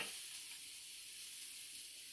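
Vegan ground beef substitute sizzles steadily in a hot pan, a continuous bright frying hiss at moderate level with no voices, even and unbroken throughout.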